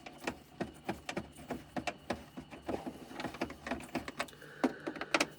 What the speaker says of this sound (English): So let's get all these screws out.